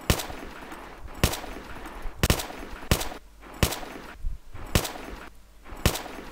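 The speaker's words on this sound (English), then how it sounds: "I think this is the M249." M249 machine gun from a DICE video game, firing six or seven loud separate bursts spaced about a second apart, each a sharp crack with a short tail, and no voices.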